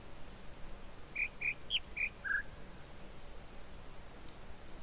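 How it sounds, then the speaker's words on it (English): Five short, bright bird chirps in quick succession from the video game The Witness, evenly spaced and moderately close, set against a soft, steady hiss of ambient noise. "Listen to the bird sounds."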